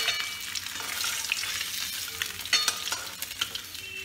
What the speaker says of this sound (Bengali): আমার মাছ ভাজা হয়ে গেছে।